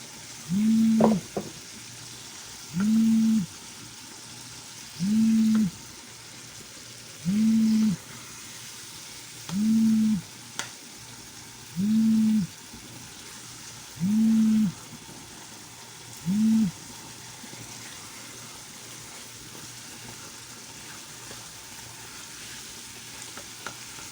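Tomatoes stir-fry in a pan for masala kaleji, giving a constant low sizzle broken by eight evenly spaced low droning pulses, close and moderately loud.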